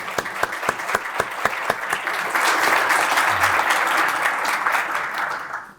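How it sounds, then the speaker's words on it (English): An audience at an evening founders' honors event claps together, a few sharp separate claps at first that swell into sustained, dense applause before fading out. "with applause after I name these"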